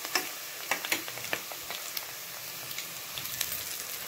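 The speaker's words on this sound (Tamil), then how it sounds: "இது கூட நம்ம இஞ்சி பூண்டு பேஸ்ட்டையும் போட்டு வணக்கிக்கலாம்." Onion with ginger garlic paste frying in a pan for tomato rice, giving a faint, soft sizzle broken by small irregular ticks and pops, quiet and close with no talk.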